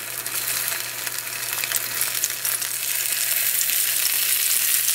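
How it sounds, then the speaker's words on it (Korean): Acorn flour pancake fries in a generous pool of cooking oil, giving a steady, dense sizzle that stays loud and continuous throughout with no talking. "지글지글하게 밑이 완전히 노릇하게요."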